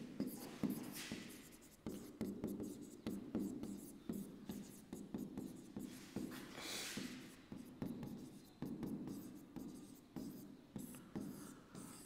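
A teacher writes notes on a board with a steady run of quick scratching strokes and taps, close and continuous for about twelve seconds, with no one speaking.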